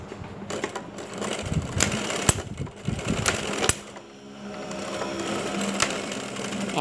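A sewing machine stitches through the torn crotch of a pair of jeans, a fault in the rotary hook causing breaks. Its rapid mechanical chatter runs loud and close in bursts with short pauses, alone without talk.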